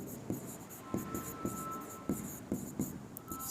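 Chalk or marker strokes writing an equation on a board, a series of short, sharp taps and scratches at irregular intervals, close and fairly quiet with no voices.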